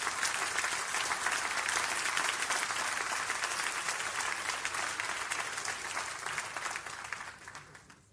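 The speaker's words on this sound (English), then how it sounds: "give God a good hand clap offering." Steady, dense applause from a church congregation giving a hand-clap offering during a sermon, loud and sustained for several seconds before tapering off at the end, with no talking over it.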